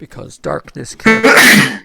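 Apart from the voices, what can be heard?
sneeze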